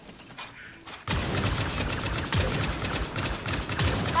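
Sustained gunfire in the video game Firefall breaks out abruptly after a quiet second, a loud, dense barrage of shots that continues to the end with no talking.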